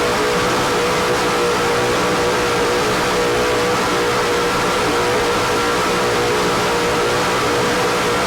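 Sterling-powered Alcone Motorsports racing powerboat on the Chesapeake Bay, its engine roaring loud and continuous throughout, a dense sustained drone that never lets up.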